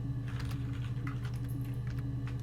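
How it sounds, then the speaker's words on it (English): Soft keyboard typing from the video game Her Story, a light run of small irregular clicks over a steady low hum, moderately quiet with no talk. "it has little typing sounds"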